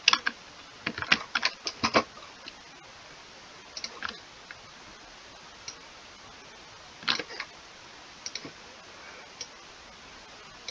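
Someone typing on a computer keyboard while building in Roblox Studio, with crisp, close key clicks that come in short bursts and scattered single taps, separated by quiet pauses, and no talking.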